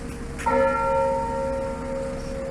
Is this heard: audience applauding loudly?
no